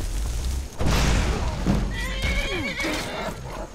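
Horse in the video game Skyrim whinnying with a rising, shaky neigh, accompanied by heavy thuds and hoof clatter, loud and close.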